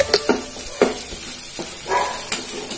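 Ginger fries in oil for a pickle with a close, steady sizzle. Several sharp clacks of a spoon stirring against the pan sound at irregular intervals.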